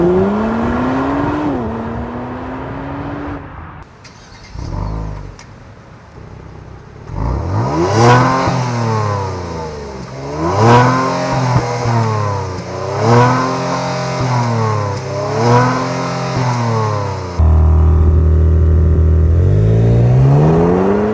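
A 2023 Kia Stinger GT's exhaust is revved repeatedly at close range, giving about five rising and falling bursts after an idle and a short pause, with no talking.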